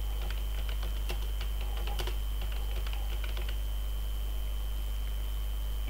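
A computer keyboard is typed on at a steady pace, the clicks faint over a constant electrical hum, then the keystrokes stop about halfway through, leaving only the hum.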